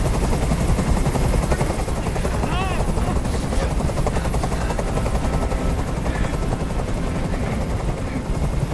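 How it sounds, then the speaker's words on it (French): A helicopter hovering in the video game Detroit: Become Human, a loud continuous rotor thrum filling the scene, with voices speaking over it. "Je peux plus supporter ce bruit. Fais dégager cet hélicoptère,"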